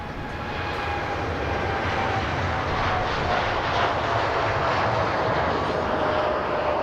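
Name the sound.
Etihad airliner departing Manchester Airport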